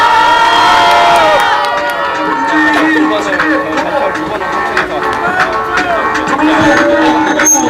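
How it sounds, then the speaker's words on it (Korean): A crowd at a political rally outside the Supreme Prosecutors' Office in Seoul applauds and cheers loudly and continuously, with voices shouting over the clapping throughout. "큰 박수로 앞으로 모시겠습니다."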